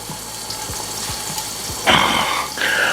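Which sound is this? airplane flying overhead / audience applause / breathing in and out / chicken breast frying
chicken breast frying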